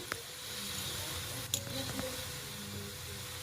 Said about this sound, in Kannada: ಒಂದೊಂದೇ ಆಲೂಗಡ್ಡೆಯನ್ನು ಈ ಥರ ನಾನು ಫ್ರೈ ಮಾಡ್ಕೊಳ್ತಾ ಇದ್ದೀನಿ